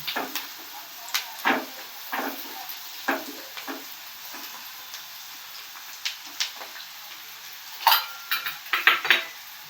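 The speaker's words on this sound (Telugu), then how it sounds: "ఆనియన్స్ బాగా ఫ్రై అవ్వాలి." Onions frying in a pan for kaju paneer curry, with frequent sharp clinks and scrapes of a utensil against the pan over a faint sizzle, close by and irregular, busiest near the end.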